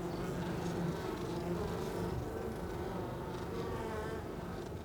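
Honeybees hum in a dense, continuous buzz at a close hive in Brittany, a sick colony affected by varroa mites, steady and loud with no talk.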